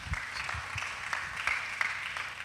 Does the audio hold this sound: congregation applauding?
yes